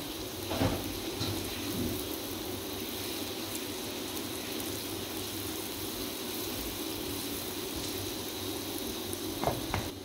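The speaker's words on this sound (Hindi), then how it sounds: "अब हम लहसुन अदरक को अच्छी तरह इसको भूनेंगे" Garlic and ginger frying in a pan, a dense, even hiss of sizzling that carries steadily throughout with a couple of faint knocks.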